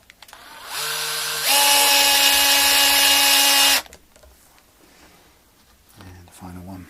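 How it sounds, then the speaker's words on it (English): A cordless drill with its clutch set low drives a screw into the wood of a vintage SG guitar, whining in two steady pitched bursts before stopping abruptly, followed by faint handling clicks and a short second whir. "the clutch on this will slip as soon as it hits any pressure, because I don't want to grind away the thread on this wood"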